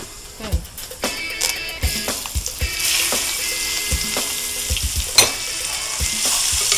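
Onions sizzle and fry in hot oil for a chicken curry while a spoon stirs and scrapes the pan with sharp knocks. The steady hiss sits close with no talking.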